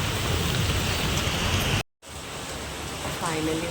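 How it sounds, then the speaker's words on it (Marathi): Steady rain falls outdoors as a dense, loud, even hiss broken by a brief cut midway, with no distinct voices over it. "पाऊस पण पडतोय"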